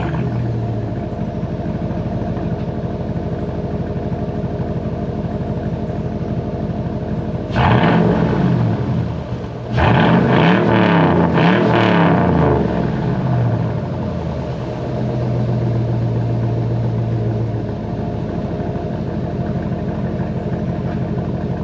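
A Chevrolet Suburban's engine and exhaust idle with a steady low rumble, broken midway by a few loud revving roars and clattering bursts before settling back to idle.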